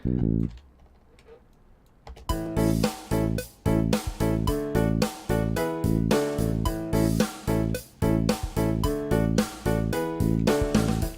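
An electro bassline of solid root notes plays as a steady run of short, punchy synth hits in a driving rhythm, entering sharply after about two seconds of near silence.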